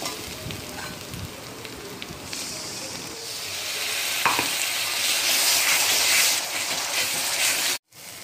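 Masala with garam masala being stir-fried in a kadhai for kadhai mutton, with a steady close sizzle that grows louder midway, and occasional scraping stirs.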